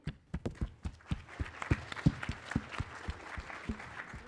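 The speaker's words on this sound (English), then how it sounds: "let's give a hand of applause for him" A small, thin round of applause greets the next speaker at a DefCamp security conference talk: a handful of separate, sharp hand claps at an uneven pace, moderately close, fading into a looser patter.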